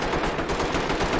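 Rapid, dense gunfire from the tactical shooter Ready or Not, a continuous burst of overlapping shots filling the whole moment at steady loudness, with no voices over it.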